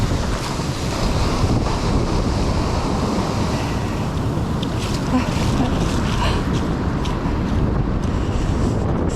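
Ocean surf rolling onto the shore at Coles Point Beach in South Australia, a continuous loud wash of waves heavily blended with gusting wind across the microphone, with no pauses for the full stretch.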